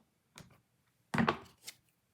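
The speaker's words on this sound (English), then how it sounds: "I'll just cut it down with my scissors." Scissors snipping through a paper strip indoors: one short cut, a pause, then a louder burst of two or three quick snips close by, with no talk.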